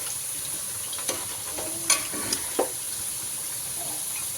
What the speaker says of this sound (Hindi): थोड़े और तलो तुम लोग